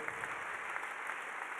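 Applause from a business audience, a short, steady wash of many hands clapping at moderate distance, even and continuous with no voices over it.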